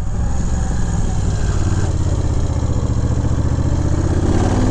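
A 2000 Moto Guzzi Jackal motorcycle with a fuel-injected engine idles steadily and close by, a continuous low, throbbing pulse that stays even and loud from start to finish with no talking.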